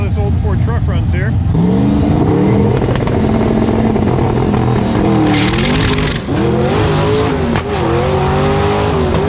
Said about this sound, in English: Let's see how this old Ford truck runs here.